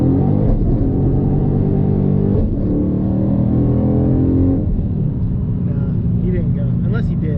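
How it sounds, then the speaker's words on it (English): A cammed Dodge Challenger R/T launches hard from a dig, its engine roaring loud and continuous from inside the car as it accelerates, with a deep rumbling drone and audible gear shifts. "But I feel like the car took off pretty good."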